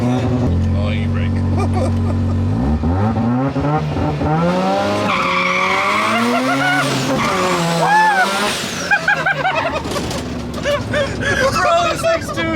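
A 13B rotary-engined Datsun driven hard, with a loud, close engine rising in pitch through the gears, then squealing tires under heavy braking while people talk in the car.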